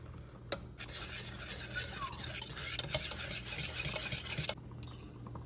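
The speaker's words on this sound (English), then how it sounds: "I'm going to add in that vegan mozzarella, stir that in" Spoon stirring vegan mozzarella into a pot of vegan cheese fondue, a continuous soft scraping swirl with occasional light clinks against the pot, close and quiet.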